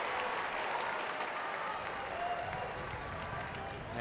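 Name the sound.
partisan San Antonio crowd cheering at a soccer match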